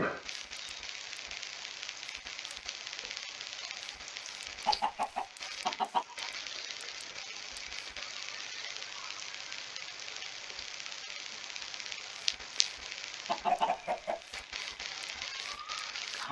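Minecraft chickens clucking on a farm, short soft clucks clustering around a few moments over a steady hiss of game ambience, with no talking.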